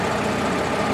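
A Renault tractor with nearly 13,000 hours on it runs steadily nearby, its engine giving a constant, dense mechanical drone with no changes in pitch.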